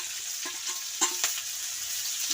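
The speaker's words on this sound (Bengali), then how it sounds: "এবার এগুলোকে একটু করে ভেজে নেবো" Onion, chilli and capsicum with carrot fry in a wok for chowmein, a soft steady sizzle broken by several sharp clacks of a spatula stirring against the pan.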